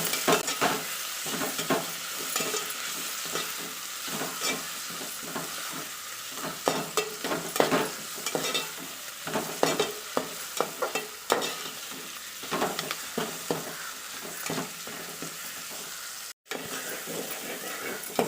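Tomatoes with salt sautéing in a pan for crab curry, a steady close sizzle broken by frequent scraping stirs, one brief dropout near the end, no voices.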